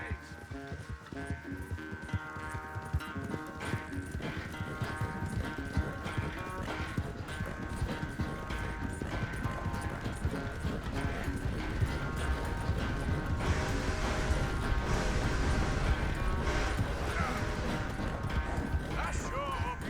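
Horse hooves clip-clop steadily in the Red Dead Redemption 2 video game, a rhythmic trotting beat that runs throughout under game music and ambient sound, with voices of characters talking over it.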